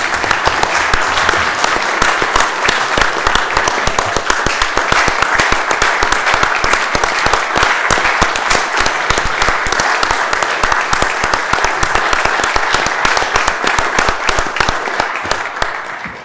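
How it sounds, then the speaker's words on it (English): Sustained applause from an audience at a Fishers city council meeting, dense steady clapping of many hands holding at an even level for about sixteen seconds before easing off slightly at the end, with no talk over it. "I hope everyone could give him a round of applause for his work"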